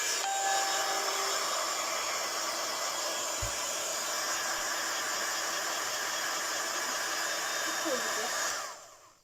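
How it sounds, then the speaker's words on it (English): Blow dryer drying a watercolour craft piece, a steady loud whooshing roar held for several seconds before it cuts off at the end, with no talk over it. "now I'm going to dry it, blow dry it"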